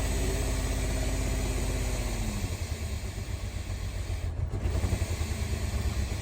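A Cadillac STS engine idles after a jump start, still unable to hold idle on its own: a loud, steady low rumble that turns slightly rougher and more uneven partway through, with no voices.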